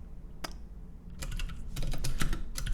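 Computer keyboard typing, starting with a single isolated keystroke, then a quick run of clicky keystrokes in irregular bursts, close and moderately loud over a low steady background hum.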